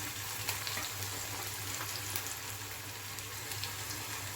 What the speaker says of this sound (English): So first we have to fry all these veggies.